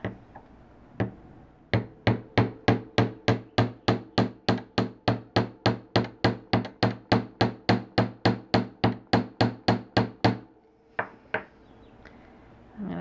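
A chasing hammer strikes wire on a metal bench block in a steady, rapid series of about thirty sharp, ringing blows, flattening the wire ends, close and loud, then stops.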